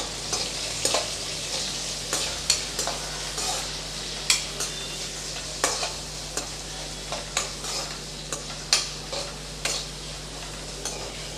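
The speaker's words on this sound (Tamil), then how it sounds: "ஒரு பெரிய சைஸ் வெங்காயம் இந்த மாதிரி நீள நீளமாக நல்லா நைஸாக கட் பண்ணி வச்சுருக்கேன் இப்போ அதையும் சேர்த்துடலாம் சேர்த்து நல்லா வதக்கி விட்டுக்கலாம்" Long thin onion slices sautéing in a pan for vermicelli biryani, with a steady sizzle and repeated sharp clicks of a spoon stirring against the metal, close and without talk.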